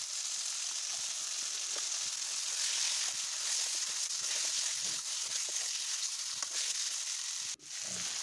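Pork meat sizzles steadily in a hot pan with turmeric, a loud continuous frying hiss filling the whole stretch with a brief dip near the end as the pan is stirred.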